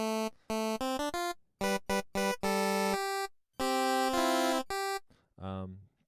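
Nintendo NES pulse-wave synth voice at the first duty-cycle width plays a run of bright, buzzy chiptune notes with short staccato hits and a few longer held tones, loud and clean with no reverb or delay, ending on a lower descending note.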